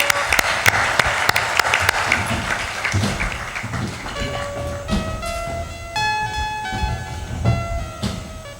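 Loud applause and clapping from a religious gathering at a Kabir ashram, dense and sustained in the first few seconds, then thinning out while a steady tonal hum and bright sustained tones carry on behind it.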